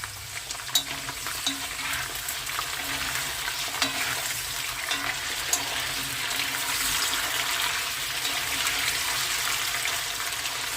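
Potatoes sizzle and crackle steadily in a hot, uncovered pan, with occasional sharp pops and clinks over the constant frying hiss.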